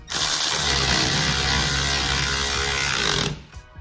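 A power tool or ratcheting wrench runs in one continuous whirring burst for about three seconds while tightening 19mm nylock nuts on a Timbersled snowbike pivot wheel kit, then stops abruptly with light handling noise after.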